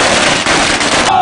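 Loud, dense crackling fireworks set off at a Holi victory celebration at Shaheed Chowk, a rapid continuous barrage of pops filling the whole burst with no pauses.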